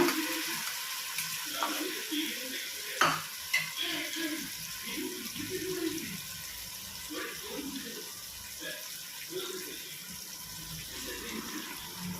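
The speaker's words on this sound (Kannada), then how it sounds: "ಈ ಮಸಾಲೆನ ಇದಕ್ಕೆ ಹಾಕ್ಕೊಳ್ಳೋಣ" Finely ground masala going into a tomato-based anjal fish curry in a hot pan: a soft bubbling sizzle with spoon scrapes and knocks, plus watery stirring sounds and a few faint murmurs.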